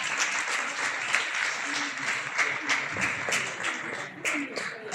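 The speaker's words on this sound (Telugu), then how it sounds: "చప్పట్లు కొట్టండి." Applause at the anniversary ceremony of a Kuchipudi dance academy, an audience clapping continuously at moderate distance, even and sustained throughout with faint murmur beneath.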